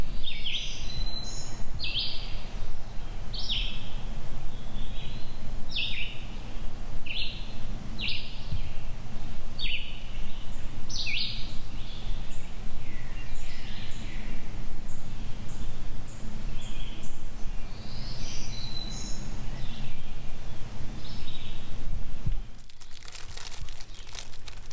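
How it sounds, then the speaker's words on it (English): Birds chirp and sing repeatedly in bright bursts over a steady low background rumble, ending abruptly in a brief rustle. "listen to the birds"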